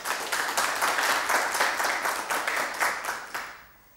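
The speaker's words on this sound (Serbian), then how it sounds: "Hvala lijepo i aplauz za negaciju." Audience in a televised debate show breaks into steady, lively applause, many hands clapping together before fading out at the end.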